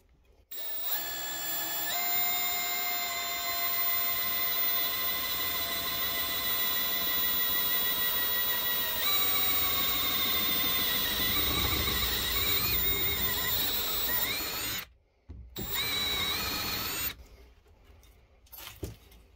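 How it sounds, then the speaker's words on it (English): A drill bit bores through a metal ring, a sustained high whine with steady harmonic tones that shifts pitch as it cuts, running continuously before stopping abruptly, then briefly restarting and cutting out. "So let's drill through this."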